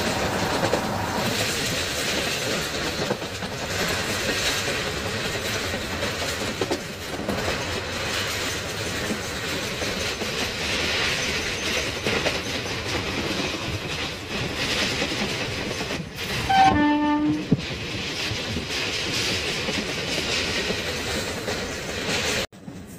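The Thirupathi Express runs between Villupuram and Arni near Tirukkoilur station, its wheels clattering in a steady rhythm on the rails. A brief metallic squeal and buzz intrude partway through the run.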